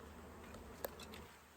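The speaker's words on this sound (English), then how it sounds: "There's a lot of bees in here, Lynn." Honey bees buzz in a large, open hive, a steady faint drone of many wings with a brief sharper burst partway through, no one speaking.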